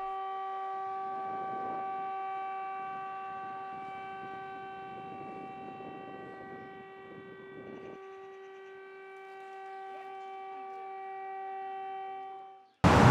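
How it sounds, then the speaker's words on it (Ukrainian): An air raid siren in Odesa holds a steady, layered wail for about twelve seconds, loud and carrying across the city, over faint background noise, then breaks off abruptly. "За законом жанру весь цей сюрреалізм закріпила сирена."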